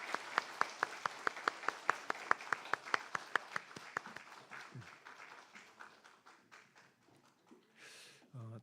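Church congregation at a Sunday worship service claps in sharp, evenly spaced beats that gradually dissolve into scattered, fading claps, with a brief murmur near the end.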